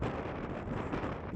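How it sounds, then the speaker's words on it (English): A strong, bitterly cold wind roars across a mountain ridge on a fell hike, a continuous close buffeting rush over the microphone with no voices. "I was heading into a strong wind, and a bitter freezing wind at that."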